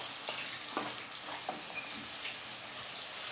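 Vegetables and spreadable cheese such as La Vache qui rit are stirred in a pan over low to medium heat, a soft continuous sizzle with faint scraping of the spoon.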